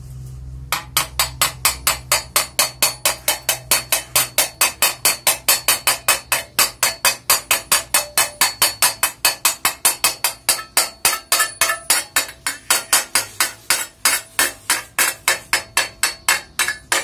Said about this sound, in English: I'm going to take my hammer, chipper, and I'm going to chip these welds.